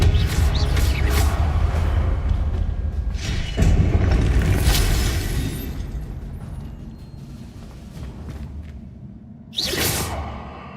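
A Confringo fire blast from Hogwarts Legacy: whooshing spell bursts and booming impacts, loud and close at first, fading into rumbling ambience before another sharp whoosh at the end.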